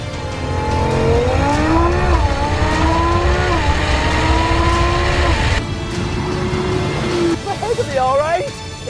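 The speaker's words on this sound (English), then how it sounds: "this RS6 just motors from the line" An Audi RS6 launching off the line in a drag race against an Audi R8, its engine revving up through rising gear pulls, loud and close, with a voice talking over the roar.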